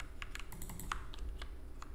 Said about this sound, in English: click control space on your keyboard again